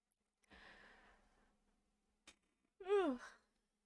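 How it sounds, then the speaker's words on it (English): A person yawns softly at the end of the day, a drawn-out breathy exhale followed by a brief click and a louder rising-and-falling vocal yawn, close and quiet. "Oh, I don't mean to yawn."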